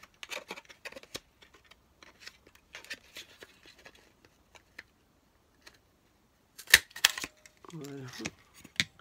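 Scissors snip out paper butterfly pieces for a scrapbooking card in small, light clusters of cuts spread over several seconds, close but faint, with a person talking softly toward the end.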